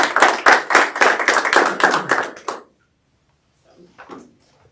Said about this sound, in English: Maybe we could just have a quick round of applause and thanks.